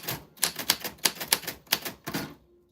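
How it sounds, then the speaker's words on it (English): A working 1940s manual typewriter is typed on: about ten sharp, crisp key strikes in an uneven quick rhythm, close and loud, ending with a brief soft mechanical hum. "From a typewriter from the 40s that still works"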